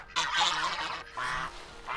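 Farm geese honk in a close, loud run of harsh calls, several overlapping honks in quick bursts.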